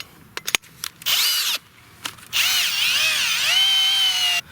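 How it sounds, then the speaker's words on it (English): A power drill with a 1-inch auger bit whirs in two loud bursts boring into red clay, its pitch sweeping up and down as the bit bites, preceded by a few sharp clicks and knocks. "Alright, my drill, 1-inch auger bit."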